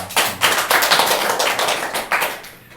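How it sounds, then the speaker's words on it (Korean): A congregation at a church service claps, with sharp, uneven bursts of hands rising and falling, fairly close and loud, then thinning out toward the end. "박수해 주세요"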